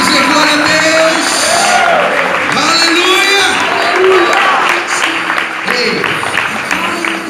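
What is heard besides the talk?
congregation applauding in church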